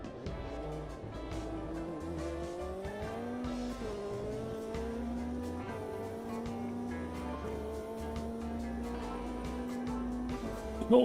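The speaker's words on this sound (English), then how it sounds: "I think this sounds pretty good, this car." A race car engine in an online racing video game revs and shifts steadily through gears, its droning note rising and falling continuously with faint tire noise underneath.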